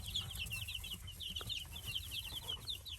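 Baby chickens chirping and peeping in quick, repeated high calls, faint and close, a busy twittering chorus over a low background hum.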